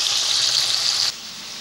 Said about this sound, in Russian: Так, и обжариваем мясо.